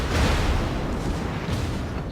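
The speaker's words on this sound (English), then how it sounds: "I'm gonna get to blast something with my rear guns" Rear gun turrets of a warship fire in World of Warships, a deep, loud booming salvo with rumbling blast tails rolling on for about two seconds.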